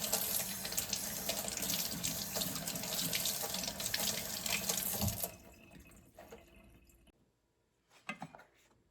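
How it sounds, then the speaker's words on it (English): Rice being rubbed and rinsed under a running kitchen tap, water rushing steadily into the sink, then the flow stops and a few drips and light handling sounds follow. "Then you just rub and rinse."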